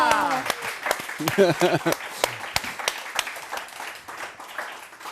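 An audience applauds with a burst of clapping that gradually thins out, while a voice speaks briefly over the start.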